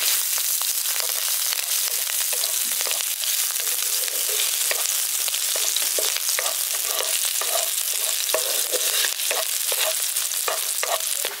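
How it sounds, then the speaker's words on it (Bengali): Chopped garlic and green chilies frying in hot oil, a steady dense sizzle with crackles and occasional stirring scrapes, close and loud throughout with no talking. "এবার এগুলোকে আগে হালকা একটু ভেজে নিচ্ছি।"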